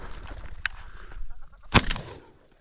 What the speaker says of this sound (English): Then there's a late flusher and I'm able to shoot it for Savvy.